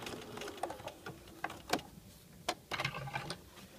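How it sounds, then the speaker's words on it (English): A sewing machine stitching a flat felled seam close to the fabric edge, giving short irregular bursts of mechanical whirring and clicks with brief pauses between runs, fairly quiet and close. "stitch forward. I'm close to the edge, staying parallel to my first row of stitching"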